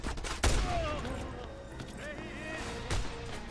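Gunfire in the video game Just Cause 2 comes as sharp shots in a quick volley, then a single later shot, over someone talking in German.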